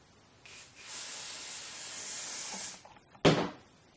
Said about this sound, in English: I take my olive oil fix-it spray I'm gonna just go over that